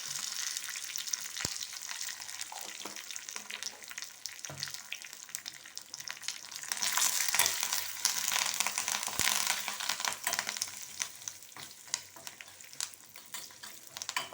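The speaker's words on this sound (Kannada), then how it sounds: "ಸಾಸಿವೆ ಸಿಡಿತಾ ಇದೆ" Mustard seeds sputter in hot coconut oil for a South Indian tempering with curry leaves and asafoetida, a steady close sizzle crackling with scattered pops that swells louder midway, with no talking.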